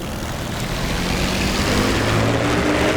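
Bf 109 fighter plane propeller engines in a combat flight video game, a loud continuous droning roar with a slowly shifting pitch and no talk.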